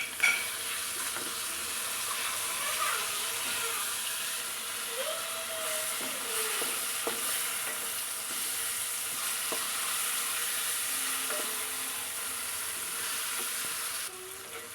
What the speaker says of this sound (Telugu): ఒకసారి ఎగ్స్ కలుపుతాం